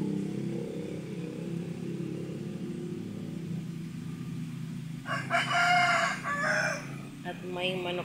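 A rooster crows loudly about five seconds in, a harsh rising call repeated in bursts over steady low background rumble.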